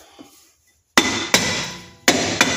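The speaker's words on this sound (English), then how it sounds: "This is the hammer you use." A hammer strikes a stuck rear brake drum on a vehicle, four sharp metallic blows in two quick pairs, loud and close, each ringing briefly before the next, with no talk.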